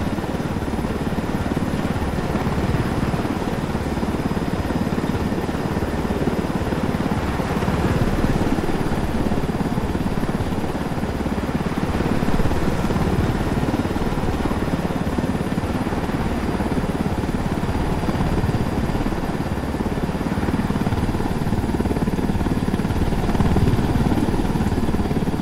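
Helicopter in the video game Ghost Recon Wildlands, a steady loud rotor and engine drone running unbroken throughout with a dense low rumble.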